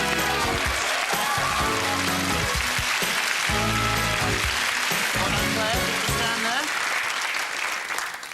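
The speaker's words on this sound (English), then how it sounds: "Give her a round of applause." A television game show studio audience applauds loudly over upbeat theme music, the clapping sustained the whole way before easing off at the end.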